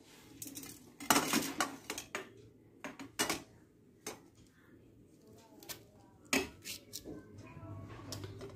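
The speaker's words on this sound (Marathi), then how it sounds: "ही मिरची ना मी अशी कट करून घेणार आहे" A knife chops thick green chillies for masala mirchi on a board, giving a handful of sharp, close taps and clacks spread unevenly across the stretch, loudest in a quick cluster near the start, with quiet kitchen ambience between strikes.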